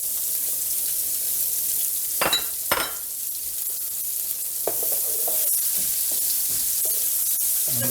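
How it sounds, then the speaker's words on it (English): Onions tossed into a hot pan give a couple of clattering knocks, then settle into a soft, continuous sizzle. "straight into our pan, I'm going to throw my onions"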